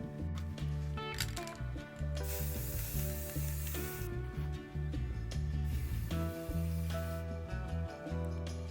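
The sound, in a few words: spray painting with matte paint from a can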